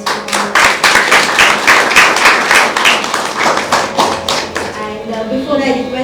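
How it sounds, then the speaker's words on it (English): Clapping from a concert audience after a classical Indian vocal performance with tabla and harmonium, fairly loud and close with distinct individual claps, thinning out toward the end. "Maybe give a round of applause to her."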